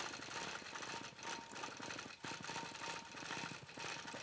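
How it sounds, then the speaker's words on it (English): A longarm quilting machine stitches at 14 stitches to the inch, a steady rapid mechanical chatter with a faint hum that swells and eases slightly as the machine moves. "I'm stitching in 14 stitches to the inch"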